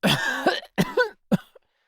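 A man coughs in three harsh, rough bursts with short pauses between them, close by and fairly loud, then silence.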